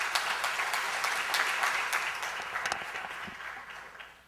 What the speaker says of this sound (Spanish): Iniciamos esta mesa con unas fuertes palmas